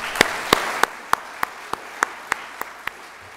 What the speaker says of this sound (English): I think it might be appropriate if we gave them a thank you round of applause